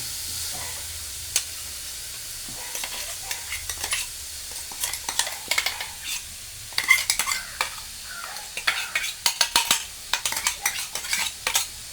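A paste of coconut, garlic, cumin and turmeric is stirred in a pan with repeated quick scraping and clinking strokes over a faint sizzle, irregular at first and growing busier.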